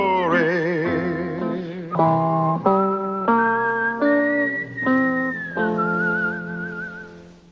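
A whistled Western theme tune for the Tombstone Territory cowboy TV series, a clear melodic line of sustained and sliding notes over a steady musical backing, carrying on loudly for several seconds with no talking.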